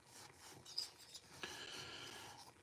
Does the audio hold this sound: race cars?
no